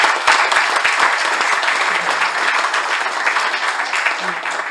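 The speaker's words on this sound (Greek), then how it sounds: "Παρακαλώ το χειροκρότημά σας για τον αείμνηστο Γεωργίου Τσαούση." An audience at a commemorative event applauds in honour of the late Georgios Tsaousis, sustained, fairly close clapping with a few sharp individual claps and faint voices mixed in.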